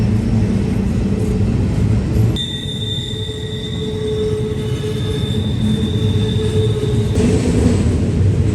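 An intermodal train passes at Horseshoe Curve in Pennsylvania, giving a close, loud, continuous rumble of rolling cars and a steady high wheel squeal.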